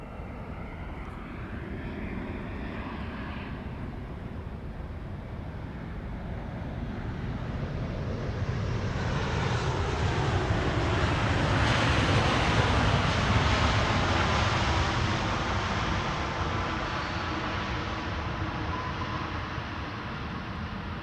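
Boeing 777 freighter arriving at Amsterdam Schiphol, its jet roar swelling from a distant whine to a loud broadband rush, peaking as it passes, then slowly fading, with some wind noise.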